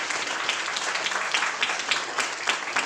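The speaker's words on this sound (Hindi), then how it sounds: "अपने लिए तालियां बजाएं।" Schoolchildren at a school event applaud in a steady, dense burst of clapping that holds evenly loud throughout, with no voices over it.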